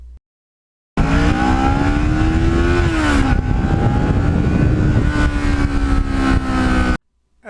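A Kawasaki Ninja 650 motorcycle being ridden, its engine a loud, steady, close drone that rises in pitch and then dips briefly around the middle, cutting in abruptly after a second of silence and stopping just as suddenly.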